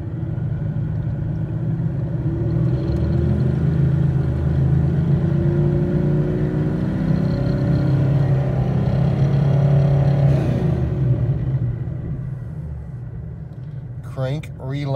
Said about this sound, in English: engine is running. Check. Bring up to 4200, hold and briefly release.